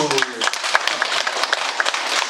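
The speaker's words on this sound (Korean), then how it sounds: "박수" Audience clapping at a Buddhist dharma talk, a brief burst of many hands with sharp irregular claps, following the speaker's voice at the start.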